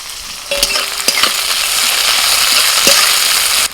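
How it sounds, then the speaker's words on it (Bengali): Chopped onions hit hot oil with masoor dal, bursting into a loud, close, steady sizzle after a clatter of dropping pieces, with a few spoon knocks and scrapes as they fry. "এবার দিচ্ছি পেঁয়াজ কুচি"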